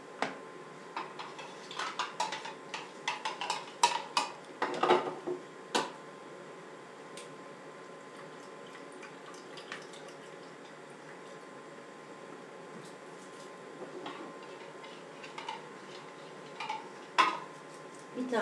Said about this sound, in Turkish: Karıştıralım da dibi tutmasın.